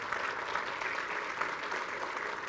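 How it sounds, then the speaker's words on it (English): An audience at a city council meeting applauds staff, steady diffuse clapping heard from a distance, fairly faint and even throughout with no talk over it. "We can give them another round of applause"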